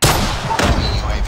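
Gunfire in a shooter video game: a loud burst of shots at close range with dense booming reports, plus a brief in-game voice.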